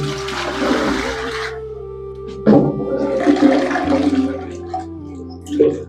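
A toilet flushes in a small home bathroom fitted with a western seat and a rear flush tank, a loud close rush of water that drains and tapers off, followed by gurgling as the tank refills.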